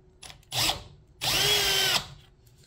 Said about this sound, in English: Might have to drill that out a little bit